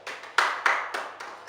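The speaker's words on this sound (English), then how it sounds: "Clap for yourself." Hands clap in a slow, uneven rhythm during a whisper challenge game, about six separate crisp claps spaced a fraction of a second apart, close and clear with no talk.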